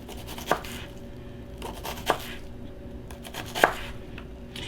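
Knife chopping through an onion on a cutting board, three or four separate sharp cuts spaced about a second apart, close but fairly quiet, with no talking.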